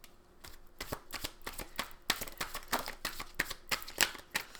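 Tarot cards being shuffled by hand, producing a rapid, rhythmic run of crisp riffling slaps that grows louder and steadier midway, close up and without speech.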